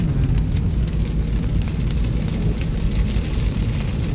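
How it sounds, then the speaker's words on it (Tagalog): Heavy rain falls in a dense, even roar of broadband patter that holds steady and loud throughout, with no talking. "Ayan na, umulan na. Ay, lakas naman."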